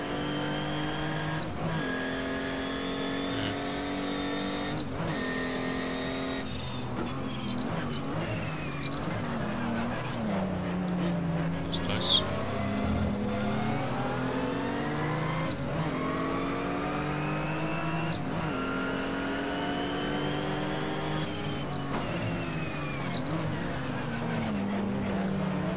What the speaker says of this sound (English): There's a car behind me, I can hear.